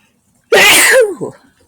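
A single loud, close sneeze bursts out sharply, trailing off into a brief vocal tail.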